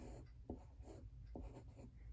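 A pencil or pen scratches across paper while sketching a tree, steady close strokes with a few short sharp marks, quiet and with no speech.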